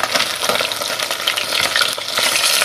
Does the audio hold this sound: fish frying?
yes